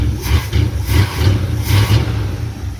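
A 1971 Dodge D100 pickup engine idles with a slightly uneven, hesitating rumble, steady low throb close by with small surges in level and no talk.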